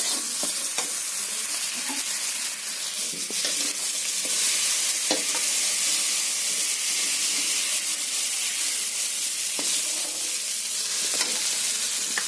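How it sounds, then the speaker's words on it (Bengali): Garlic cloves, green and red chillies, tomato and onion fry in hot oil, giving a dense, constant close-up sizzle with intermittent clicks and scrapes of stirring throughout. "আমি ওই তেলের মধ্যে রসুন কোয়া এবং কাঁচা লঙ্কা, পাকা লঙ্কা নিয়েছি, দুটো রসুন কোয়া নিয়েছি, টমেটো নিয়েছি এবং পেঁয়াজ নিয়েছি"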